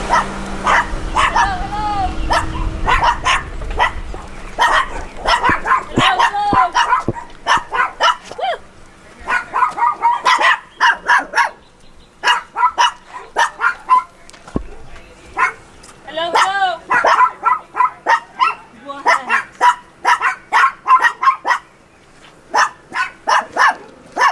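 A free-roaming dog outdoors barks and yips in repeated sharp bursts, near and loud, with whimpering mixed in and people talking now and then.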